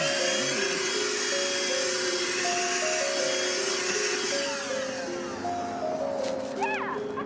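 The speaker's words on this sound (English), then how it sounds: "I'll probably have to go get my vacuum to get that all out" A vacuum cleaner sucks debris out of the cabin air filter housing of a Cadillac SRX, a loud, close, whining roar whose pitch steps up and down as the nozzle moves around.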